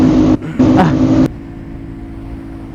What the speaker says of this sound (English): Bro, your bike just takes off so quick.